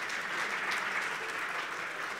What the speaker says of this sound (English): Guys, we deserve a round of applause.